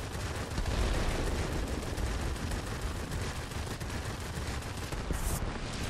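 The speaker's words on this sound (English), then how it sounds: "Let's do some strafing." Aircraft guns strafing in World of Warplanes, flown in an F7F Tigercat: continuous loud, dense rapid-fire bursts sustained almost throughout, with no talk.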